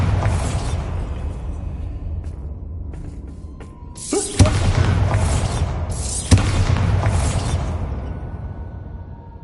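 Blasting and fire spells set off in the video game Hogwarts Legacy, two loud booming explosions a couple of seconds apart, each followed by a rumbling, hissing tail over continuous low game ambience.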